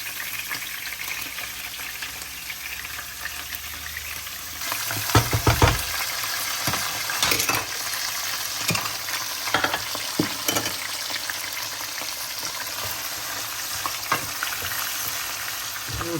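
Onions fry in a pan for an Algerian chicken dish, a dense close sizzle broken by repeated spoon stirs and scrapes, with a burst of louder crackling partway through and no speech.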